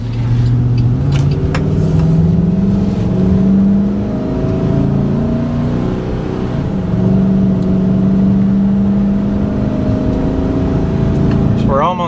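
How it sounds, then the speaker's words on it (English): A 2008 Chevy K3500 Silverado wrecker pickup drives steadily at about 55 mph, its engine droning with a rising and falling hum and road noise throughout, while a person talks over it. "And the truck runs and drives great."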